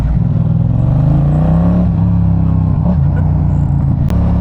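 Yamaha MT-07 motorcycle engine, a loud, close, continuous rumble with the revs rising and settling, running throughout without any talk.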